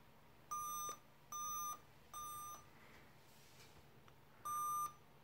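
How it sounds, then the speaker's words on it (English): A PC video card hardware test gives off four steady electronic beeps, each about half a second long. They come at an even pace, then a gap, then the last beep, all faint and quiet with nothing else heard. "It makes a beeping noise."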